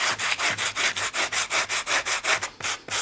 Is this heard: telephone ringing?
no